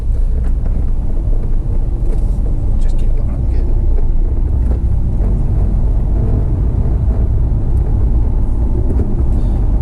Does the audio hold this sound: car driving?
yes